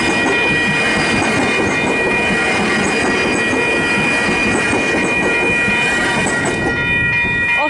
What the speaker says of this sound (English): Plimmerton Level Crossing, here's our train.